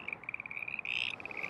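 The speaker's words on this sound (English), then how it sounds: "If you want to see or hear the Froggy Chorus at North Seattle College, the best time is evening" Pond frog chorus at North Seattle College: a rapid, steady train of high-pitched croaks, close and clear against a quiet background, briefly thickening as more frogs join in.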